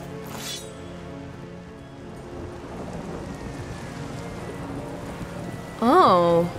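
A thunderstorm with rain in The Witcher 3 video game, a steady low rumble and hiss under the scene, with a loud tonal burst near the end and a voice faintly present.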